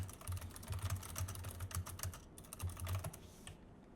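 Fast typing on a computer keyboard, a close, quiet flurry of clicking keystrokes, continues for several seconds and then stops.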